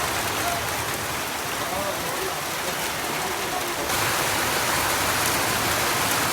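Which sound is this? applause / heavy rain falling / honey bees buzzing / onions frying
heavy rain falling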